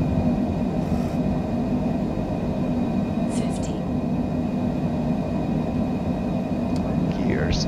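A Cessna Citation Longitude business jet rolls for takeoff on Madeira's Funchal runway in a flight simulator: a steady, loud, broadband engine roar that holds constant throughout, with a pilot speaking intermittently over it.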